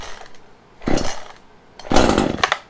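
An Echo CS-3510 chainsaw is pull-started with the choke out, giving two sharp bursts from the starter cord and engine, close and loud, with a quiet gap between them.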